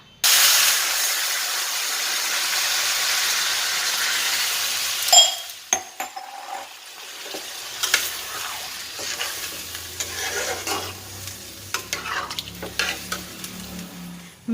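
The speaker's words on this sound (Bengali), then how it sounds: "তাহলে চলো আলুগুলো ভেজে নিই" Potatoes hitting a hot pan of oil in a home kitchen, a loud bright sizzle for about five seconds, then quieter frying crackle with clinks and scrapes of stirring, no voices.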